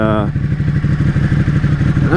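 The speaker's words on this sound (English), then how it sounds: "Other things I like about it too, the stock exhaust, man. I mean, it is just, it's beautiful sounding." A Ducati 899 Panigale on its stock exhaust runs with a loud, close, pulsing engine note rising into a rev, with talk over it.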